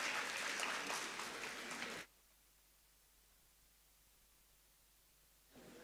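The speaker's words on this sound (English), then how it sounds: "please give him a huge round of applause" Conference audience applause fills the first two seconds with dense, even clapping, then breaks off into near silence before a brief swell of sound returns at the end.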